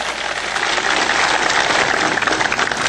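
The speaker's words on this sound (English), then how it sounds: "Give Jeremy a big round of applause." Audience applause at a political speech, a dense, steady wash of clapping that holds at an even, fairly loud level throughout with no voices rising above it.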